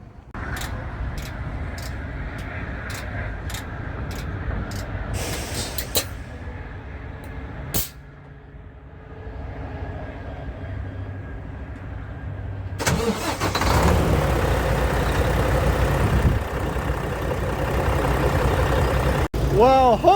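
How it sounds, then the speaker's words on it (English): A Mack diesel truck engine cranks with repeated ticking, catches with a roar and settles into a loud, rough idle that continues, with a voice briefly audible partway through. "So I'm gonna fire the truck up right now and see how it sounds for the first time."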